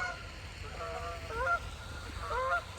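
Several swans honk in short nasal bursts of two or three calls, set against a quiet outdoor background with no talking.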